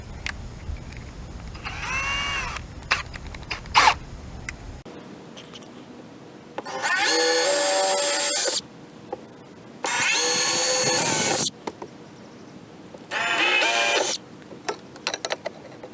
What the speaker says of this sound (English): I'm gonna have to pre-drill this because it's on the round edge.